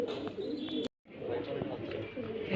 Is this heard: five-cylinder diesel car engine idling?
no